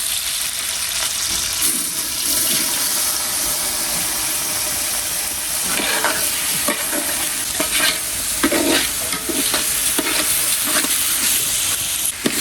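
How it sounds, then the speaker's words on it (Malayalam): Rice for chicken biryani fries in a pot while being stirred, a steady close sizzle and hiss with repeated scraping strokes of the spoon throughout, no voices. "നമ്മൾ അരി ഒന്ന് വറുത്തിട്ടാണ് നമ്മൾ വെള്ളം ഒഴിക്കുന്നത്"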